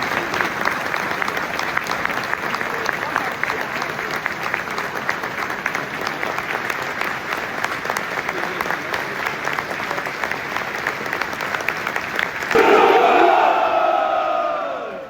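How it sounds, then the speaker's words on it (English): Sustained stadium crowd applause at a football match between QPR and Sheffield Wednesday, a dense, steady roar of clapping filling the ground for about twelve seconds before a sharper swell of cheering rises near the end. "A period of applause will begin and end on the referee's whistle."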